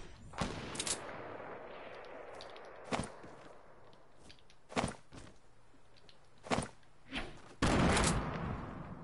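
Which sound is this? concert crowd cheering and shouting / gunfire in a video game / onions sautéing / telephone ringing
gunfire in a video game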